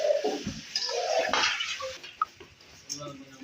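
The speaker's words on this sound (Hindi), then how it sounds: "इसके अंदर पानी डाल दिया, अब इसको कवर कर दिया।" Water splashes and pours into a metal pot of beef and tinda curry, with light clinks of cookware and a faint voice in the background.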